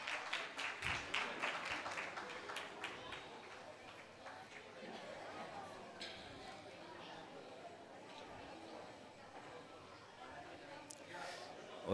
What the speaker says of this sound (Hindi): तालियों की गड़गड़ाहट जारी रहनी चाहिए।